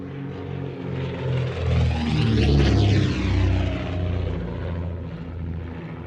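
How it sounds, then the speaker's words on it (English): A de Havilland Comet twin-propeller aircraft with Gipsy Six engines makes a flypast at an air show, a droning propeller roar that builds, peaks with a sweeping pitch shift as it passes close, then recedes. "Now that's incredibly efficient for a small twin propeller aircraft."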